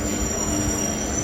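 Passenger train running into Tirupati station, with a steady rumble and a high, sustained wheel squeal close by, with no voices.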